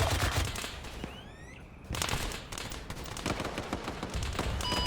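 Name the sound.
gunfire in the video game Arma 3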